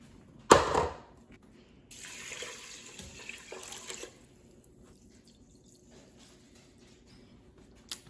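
Rice rinsed in water in a home kitchen during weekly dinner prep: a sharp splash, then a few seconds of running, sloshing water, then quiet.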